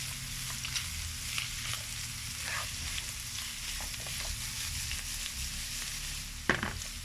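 Chopped onion and celery sizzling in a pan with bacon for a bolognese-style sauce, a steady close frying hiss with faint stirring scrapes and one brief louder clack near the end.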